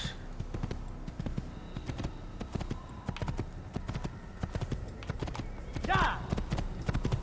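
Horse hooves clip-clopping at a steady walking rhythm in the video game Assassin's Creed, close and fairly loud, with a brief whinny near the end and a voice talking over it.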